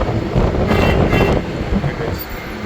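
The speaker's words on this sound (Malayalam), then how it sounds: "Mumbai CST railway station." Train noise at Mumbai CST railway station, a steady loud rumble with broadband hiss and some rattling throughout, with no speech over it.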